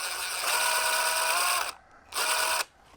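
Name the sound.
unscrewing a part of a resin pump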